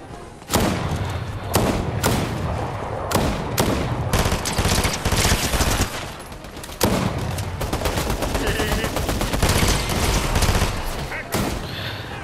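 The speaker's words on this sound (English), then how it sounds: "Oh, that's Peter you're getting shot at?" Gunfire in Fortnite Zero Build duos: loud, dense bursts of rapid shots and sharp cracks crowd the whole stretch, with a brief lull in the middle and players talking underneath.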